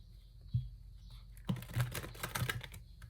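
Tarot cards shuffled by hand, giving quiet, close, irregular soft clicks and riffling taps in a few short bursts.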